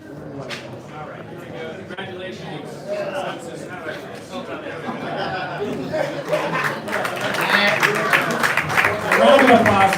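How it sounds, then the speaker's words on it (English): Applause at the U.S. Championships of Shoe Shining 2024 for the new champion, building from scattered claps amid chatter and chuckles to a louder, denser round toward the end. "round of applause for him"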